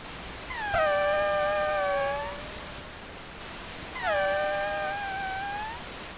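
Wing beats of a male and a female insect interacting make two separate bursts of whining harmonic hum. The overlapping tones slide and bend in pitch against a soft background hiss.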